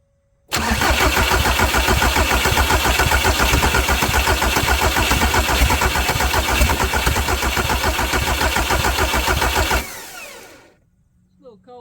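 A Volkswagen Jetta TDI diesel engine cranks continuously on a cold day with air in its drained fuel system, a loud, rapid, rhythmic starter churn lasting about nine seconds before cutting off, followed by a faint clunk.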